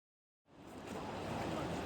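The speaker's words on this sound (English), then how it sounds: "waterfall again" A jungle waterfall in Thailand rushes in a steady, broadband roar that starts abruptly after a brief silence and holds constant, moderately distant.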